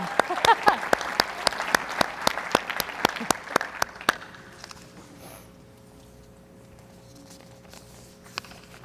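Audience at a panel conversation on the fight against polio claps for a speaker, loud sharp claps for about four seconds, then the applause stops and a quiet room follows with a faint tone.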